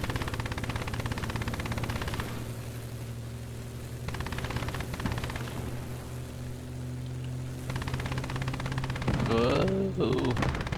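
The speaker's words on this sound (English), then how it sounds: "Looks like it's just a strafing run too." In a World War II battle in Call to Arms: Gates of Hell, an aircraft strafing run delivers sustained rapid machine-gun fire in dense, rattling bursts over a constant low battlefield drone, loud and continuous, with someone talking briefly near the end.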